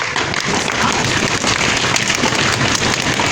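Hands of a classroom group mimic heavy, loud rain in a thunderstorm, a thick, steady roar of rapid clapping and patting that sounds remarkably like a downpour, close and unbroken.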